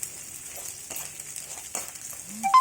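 Chana dal and other ingredients frying in oil for a brinjal fry curry, a soft, steady sizzle broken by occasional scrapes and knocks from stirring, with no talk.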